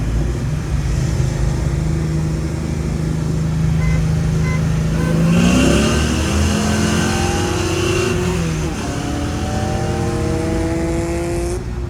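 A car engine in a vintage Camaro or supercharged NSX revs hard with a slipping clutch, the pitch climbing and sliding unevenly while the car barely pulls. The engine note is loud and close, with no talk over it.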